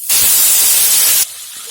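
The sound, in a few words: rohu fish head frying in oil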